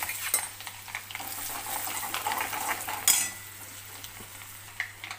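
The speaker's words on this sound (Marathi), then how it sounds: "आता 2 मिनटं हा मसाला होऊ देते" Masala paste with basic spices, asafoetida, chilies and kasuri methi frying in a pan, a soft sizzle with scraping stirs and a sharp utensil clank midway, then quieter frying.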